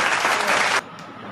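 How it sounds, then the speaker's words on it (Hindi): Studio audience applause welcoming a guest on a Hindi comedy show, a short loud burst of clapping that cuts off abruptly partway through. "तालियां।"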